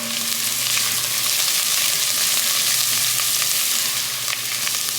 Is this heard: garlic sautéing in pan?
yes